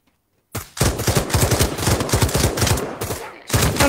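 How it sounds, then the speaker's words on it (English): Gunfire from the VR shooter game Pavlov breaks out after a moment of silence. Rapid automatic bursts are loud and close, rattle on for about three seconds, pause briefly, then resume. "Where are we being shot from?"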